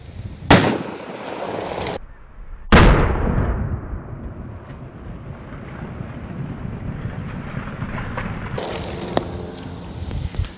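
Two heavy .500 Magnum revolver shots fired at pumpkins on an outdoor shooting range, the first a sharp booming crack with a lingering rumble, the second ringing out about two seconds later, followed by wind noise and a final burst of clatter.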